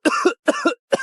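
A man in a Three Kingdoms-era costume drama coughs three times in quick succession, each a close, harsh double burst separated by brief silences.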